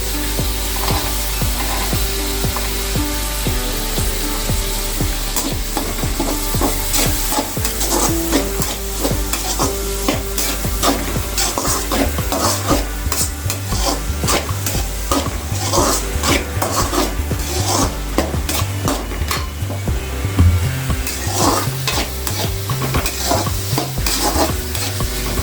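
Cut carrots and beans stirred and sizzling in a hot pan while cooking spaghetti, with steady frying hiss and repeated spoon scrapes and clinks against the pan running throughout, fairly close with no talking.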